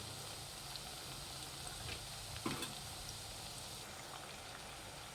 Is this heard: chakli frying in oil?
yes